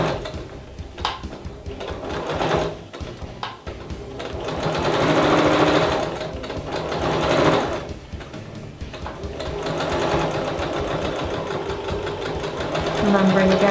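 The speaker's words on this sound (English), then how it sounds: "stitch the whole length of the strap." A sewing machine stitches along the full length of a strap for a bandeau top, running in close, steady whirring bursts that speed up and slow down, with a voice talking over it at times.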